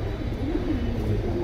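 Pigeons from a dealer's collection in Keraniganj give soft, low cooing that rises and falls over a steady background hum, moderately near, with no one speaking.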